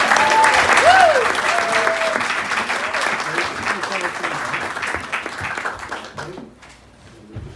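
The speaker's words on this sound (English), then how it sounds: "give her a round of applause, a bit like the BAFTAs or the Oscars" Wedding guests give the bride a warm round of applause, loud clapping with a few cheers at first, gradually thinning and fading out toward the end.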